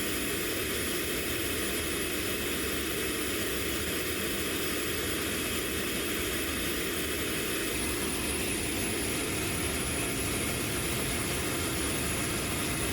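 An aircraft turbojet engine mounted in a road car spins up on a static run with a steady roaring whoosh and a thin high whine, the broadband rush building slightly as it runs continuously.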